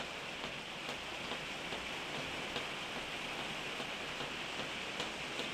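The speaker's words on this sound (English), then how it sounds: "that rain is getting heavy here" Heavy rain pours down in a steady, dense hiss with a few louder drop impacts, continuous and close throughout, with no voices.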